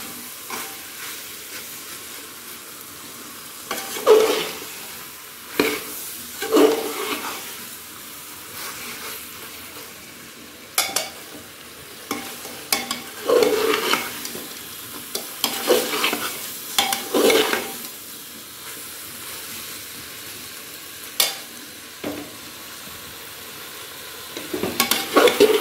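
Potatoes and peas for matar pulao sizzle in a pan while a spoon stirs them in repeated scraping bursts, close up with no talking.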